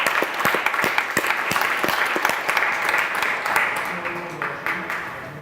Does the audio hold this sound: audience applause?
yes